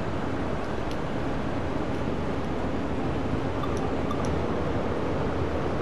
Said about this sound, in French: on va faire ronfler un peu les moteurs